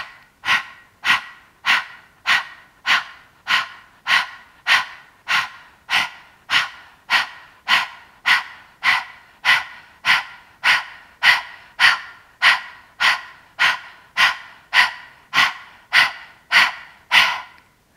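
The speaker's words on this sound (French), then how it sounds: "à l'expire, on sort la langue et on expire par la bouche en rentrant fortement le nombril" Forceful yoga breath-of-fire exhalations pushed out through the mouth with the tongue out and the navel drawn in hard, about thirty sharp, evenly spaced puffs in a fast steady rhythm, close and loud, with no talking.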